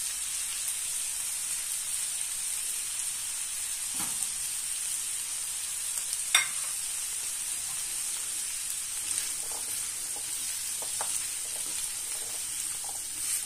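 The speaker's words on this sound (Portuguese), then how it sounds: "Vamos juntar o grão de bico que já está cozido." Cooked chickpeas and zucchini frying in a pan give a steady, even sizzle throughout, with a few faint clinks and taps over the hiss and no voices.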